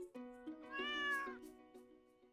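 A cat in the video game Stardew Valley gives a single clear, close meow that rises and falls over about two seconds against a quiet background.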